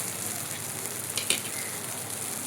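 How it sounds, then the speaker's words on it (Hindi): Medu vada or dal vada patties frying in hot oil, a steady close sizzle with a brief louder crackle midway, no voices. "इसे मैं थोड़ा सा और फ्राई होने दूंगी।"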